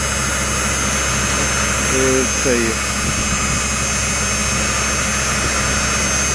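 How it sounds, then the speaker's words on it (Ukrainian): A motor-driven grain winnower cleaning soybeans, its electric motor fitted with a speed regulator, gives a steady, loud mechanical whir and hum throughout, with brief speech over it. "Така віялочка."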